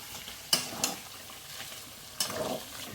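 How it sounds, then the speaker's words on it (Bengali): Small chopped pieces of duck meat being sautéed and stirred in a pan, with soft sizzling throughout and a few sharp scraping clicks of the utensil against the pan. "ভালো করে কষিয়ে নিলাম"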